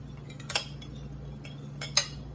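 A spoon stirs Mie Goreng sauce for Nepali-style fried noodles, giving two brief, light metallic clinks about a second and a half apart over a quiet, steady background hum.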